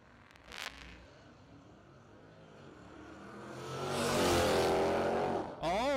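Dodge Hellcat Charger and 2018 Mustang launch side by side at a no-prep drag strip, engines swelling into a loud, roaring full-throttle pull that peaks and then cuts sharply, with a brief rev burst at the start.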